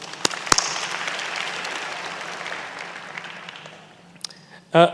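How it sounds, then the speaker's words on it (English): Applause from the audience at a graduation ceremony for a rapid tech skills program cohort, a steady broad wash of clapping that fades toward the end, with a few louder sharp sounds near the start and close. "Perhaps a round of applause to everybody."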